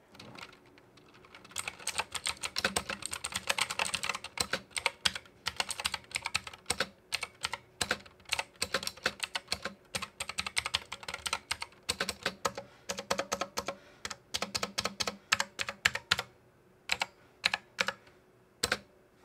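Rapid clacking keystrokes on a MageGee MK-Mini 60% mechanical gaming keyboard, close and crisp, come in uneven bursts with short pauses, steady typing with no voices.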